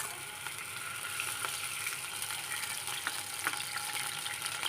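Ghee and water sizzling in a pan while making sesame ladoo, a steady, fairly quiet crackling hiss with faint pops that runs evenly throughout.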